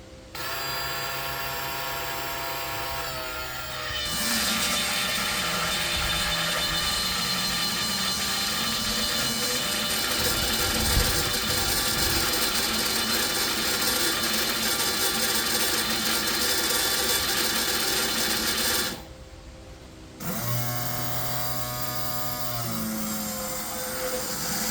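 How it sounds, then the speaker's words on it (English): Fuel pump on an XG ute primed by keying on the ignition, a steady mechanical whine and buzz running continuously for most of the stretch, briefly cutting out near the end before resuming, with no talk. "I'll quickly key on and we'll see if this pump works"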